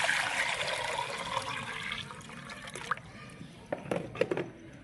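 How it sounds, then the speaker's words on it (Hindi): Water pours steadily into a metal cooking pot for cooking lentils, a broad rushing splash that tapers into lighter trickles and sloshes near the end. "अब हम इसमें डाल देंगे पानी"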